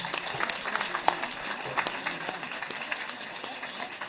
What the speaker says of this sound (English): Guys, come on, big applause.